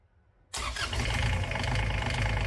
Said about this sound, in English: let's try that again with the engine running.